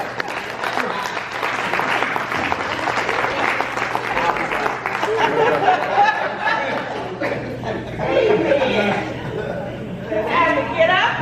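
Audience applause rolls through a hall at a retirement celebration, steady clapping mixed with chatter and light laughter throughout, with voices audible among the crowd.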